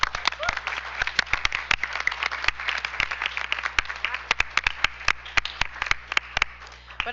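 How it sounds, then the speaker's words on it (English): A small audience at a school district board business meeting claps in scattered, distinct hand claps that keep going for several seconds over a murmur of low talk in the room. "Let's give one more round of applause to our"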